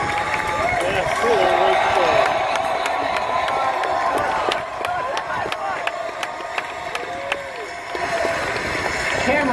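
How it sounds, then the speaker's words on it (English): Crowd of spectators cheering at Kennedy Space Center after a Falcon Heavy test flight, a steady roar of many voices with scattered claps and shouts, fairly loud and continuous throughout. "if you could hear all that cheering"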